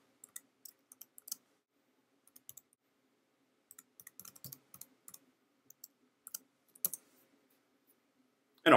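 Quiet bursts of keystrokes on a computer keyboard, with scattered clicks and short clusters of typing, then a louder final clack at the end.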